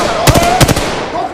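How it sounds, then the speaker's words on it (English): Gunfire in the Apex Legends video game: two quick, loud bursts of rapid shots crack out close together, each a tight cluster of snapping reports over steady background game noise. "Getting shot at."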